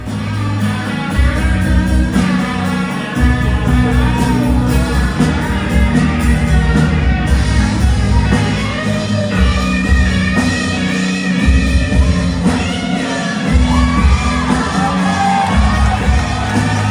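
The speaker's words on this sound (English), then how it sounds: "in that footage, the crowd just goes crazy" Concert crowd cheering and shouting loudly during a guitar solo in a song, a dense sustained roar with music underneath throughout.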